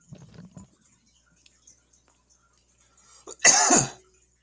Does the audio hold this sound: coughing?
yes